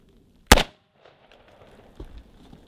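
A single sharp, loud gunshot from a .44 Magnum Desert Eagle firing a Hornady load into a car's quarter panel, followed by a faint echo and a softer thud about a second and a half later.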